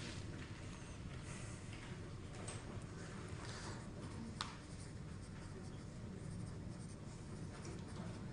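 A pencil scratches on paper during a maths lecture, a faint, steady rasp of writing strokes running through the whole stretch with only low room noise around it.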